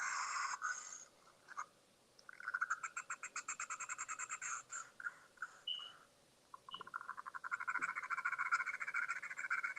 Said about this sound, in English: Oh, I like how they use bird sound.